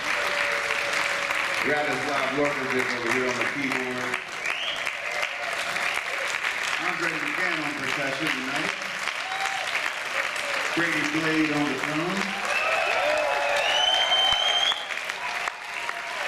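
Continuous applause and cheering from a concert crowd as band members are introduced, the clapping running throughout under an announcer's amplified voice, with some musical tones and a whistle near the end.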